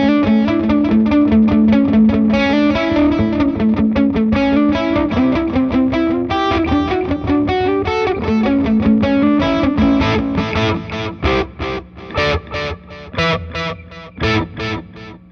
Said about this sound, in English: Now we're actually delaying the distorted signal.